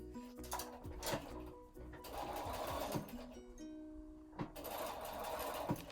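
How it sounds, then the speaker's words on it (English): Sewing machine stitching fabric binding around the curved edge of a patchwork lampshade, short bursts of close needle clatter separated by pauses, with faint handling of fabric between runs. "So you're just going to continue sewing very carefully around that curve."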